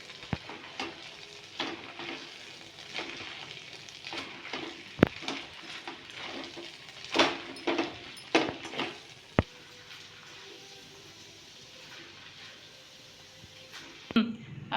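Noodles being stirred with noodle masala in a sizzling pan, with irregular scraping and clinking of a spoon against the pan over a steady low fry.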